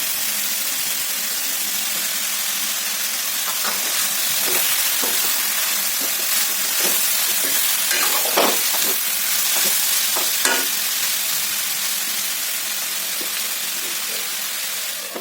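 Chopped ridge gourd frying in a pan for a banana flower and lentil dish, a loud continuous sizzle with scraping stirs and clatter throughout.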